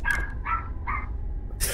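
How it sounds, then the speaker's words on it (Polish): A dog barks outside behind a balcony, three or four sharp yips in quick succession, fairly close and clear over low background rumble, with no talk. "Słyszę psa! Czemu słyszę psa?"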